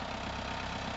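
A Millat 385 tractor engine idles in a steady, dense low rumble that holds an even level for one second, with no voices.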